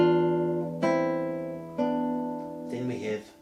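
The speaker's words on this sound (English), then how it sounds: "That bar sounds like this." Classical guitar playing one bar of Fernando Sor's Etude No. 3, Op. 35: a sustained open E with a two-note chord, followed by two more plucked chords, ringing clearly and close with decaying tones.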